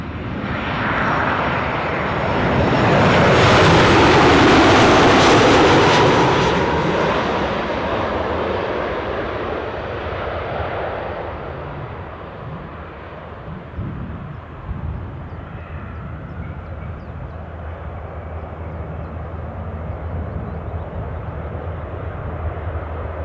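A KLM airliner at Newcastle Airport roars overhead on its approach to landing. The loud engine rumble swells to a peak, then slowly fades into a steady distant drone, with no voices.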